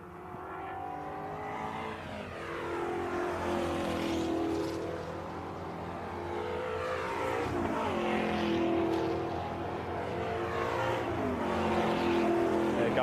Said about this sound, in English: Mark Scott, Class B, just came swinging right past me there over the start-finish line.